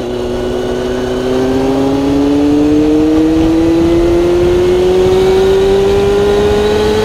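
Car accelerating hard to overtake another car on a road near Broga Hill, its engine note climbing steadily in pitch as it pulls ahead, loud and close, with wind and road roar underneath.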